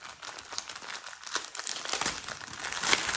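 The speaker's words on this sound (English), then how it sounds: "Sorry for the crinkling" A plastic bag of diamond painting drills is handled up close, giving continuous crisp crinkling and rustling that grows louder and busier over the few seconds.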